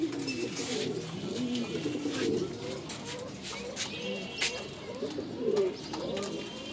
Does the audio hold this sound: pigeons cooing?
yes